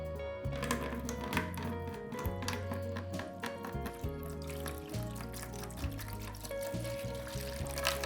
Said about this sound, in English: The liquid came out really nice and easy